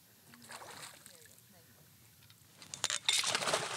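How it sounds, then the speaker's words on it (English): Water splashing and sloshing beside a fishing boat as a walleye is netted, rising into louder bursts in the last second, with people talking and calling out over it. "Did you get splashed, Cheryl?"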